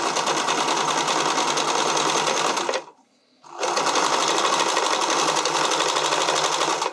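A sewing machine runs fast and loud while sewing armhole elastic, stopping briefly in the middle for about half a second before resuming the same steady, rapid stitching.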